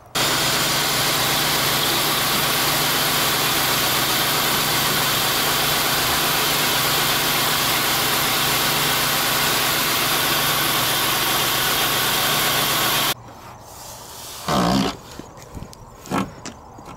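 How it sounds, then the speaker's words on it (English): A 1997 Ford F-150 pickup truck engine idles with a steady, loud rumble for most of the clip, then cuts off, leaving quieter scattered handling noises. "Now I'm going to turn the engine on and let it run for about 30 seconds"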